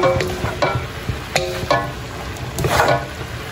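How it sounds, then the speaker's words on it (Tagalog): Sliced jicama and carrots stirred in a hot pan for lumpiang hubad, with a steady sizzle of frying under repeated close scraping and clinking strokes of a spatula. "Tsaka po itong carrots. Yan guys, at haluin na po natin maigi."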